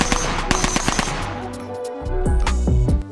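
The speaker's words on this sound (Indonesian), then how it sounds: "Wih, benar sekali, senjata M4." A black toy M4 gun fires loud electronic rapid-fire bursts with a clattering machine-gun rhythm, followed by echoing shot effects, close and with no voices.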